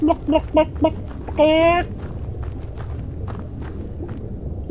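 A few short clucks followed by a drawn-out rooster-like squawk from chickens in the video game Skyrim, then a low rumbling background with faint soft steps.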